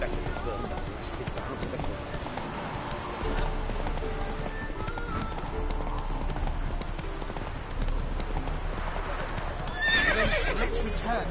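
Hooves clip-clop steadily beneath a horse's neigh and whinny from Roach, the mount in The Witcher 3: Hearts of Stone, with game voices talking over the scene.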